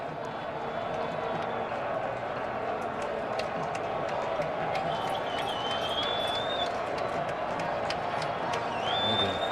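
A baseball stadium crowd during the 2013 ALDS Game 1, Tigers versus Athletics, a constant dense roar of cheering and clapping with a few whistles, broad and sustained, mixed under a commentator's talk.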